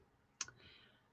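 A single sharp computer mouse click, close and crisp, followed by a faint quiet hum in an otherwise still room.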